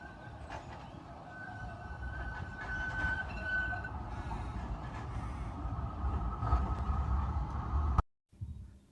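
Melbourne A1 class tram rumbling along with a steady low rolling drone and a high whine, rising slightly in loudness before cutting off abruptly near the end.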